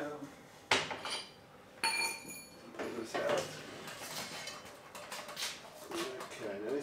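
A heavy tank is knocked loose from a wet blasting cabinet, giving a close series of sharp metallic clanks and bangs at irregular intervals, with clattering in between.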